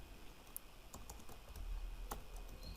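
Computer keyboard keys clicking as JavaScript code is typed, a handful of sharp, separate keystrokes spread unevenly over a few seconds against a low background hum, close and fairly quiet.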